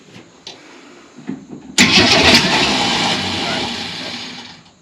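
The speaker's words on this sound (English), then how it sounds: "No, it's just that starter. Come on, you naughty little starter." Starter cranking on an old Ford Econoline travel wagon that has sat unused for over 15 years: faint, uneven churning at first, then a sudden loud, rough burst that holds steady before cutting off near the end.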